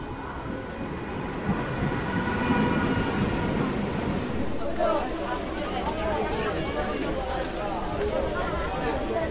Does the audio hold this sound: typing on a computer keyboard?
no